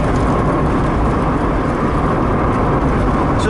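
A VAZ 2103 Zhiguli fitted with a 16-valve engine runs under hard acceleration, its loud, steady engine drone and road roar filling the cabin without a break and with no one talking.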